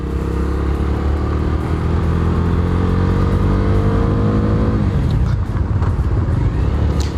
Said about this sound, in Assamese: অ'কে গাইজ, এতিয়া বাইকখন অলপ চলাই চাইছোঁ।